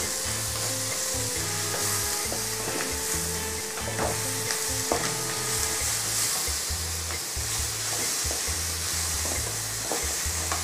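Spices with black pepper and salt sautéing in a pan, a continuous dense sizzle with faint stirring, over a soft low musical background.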